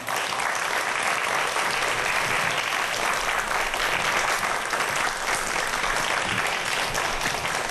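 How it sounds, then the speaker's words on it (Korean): An audience applauds steadily as a guest speaker is welcomed onto the stage at a Korean lecture event, dense sustained clapping from a large crowd throughout, with no talk over it. "한재관 박사님 큰 박수로 무대 위로 모시도록 하죠."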